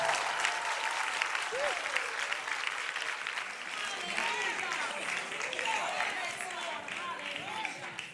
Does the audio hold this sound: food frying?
no